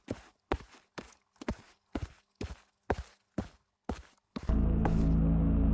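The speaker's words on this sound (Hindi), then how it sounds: "तभी अचानक किसी के कदमों की आहट सुनाई देती है।" Heavy footsteps in a horror story pace forward as nine or ten evenly spaced, loud thuds on a hard surface, each ringing briefly, before a dense rumbling drone swells in and takes over.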